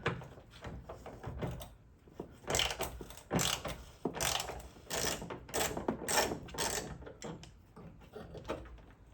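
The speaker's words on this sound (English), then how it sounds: "We're gonna loosen the other bolt," Ratchet wrench loosening a hood bolt on a 20-year-old Acura RSX, a run of quick, close clicking bursts with short pauses between strokes, fairly loud and steady, with no talk over it.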